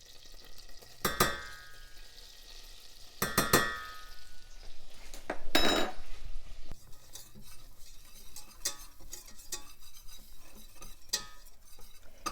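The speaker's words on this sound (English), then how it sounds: "And just give that a good stir." A utensil stirs cream and flour in a pan for lasagna, making scraping, clinking strokes against the metal in irregular bursts over a soft sizzle, close and fairly loud with no talking.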